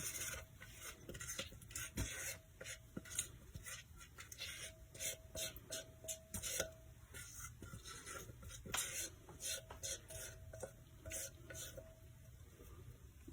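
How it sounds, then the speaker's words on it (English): A spatula scrapes homemade play dough out of a mixing bowl, giving close, repeated rasping strokes in an uneven rhythm with no talking. "I'm going to use a spatula to help me get it all out of the mixing bowl"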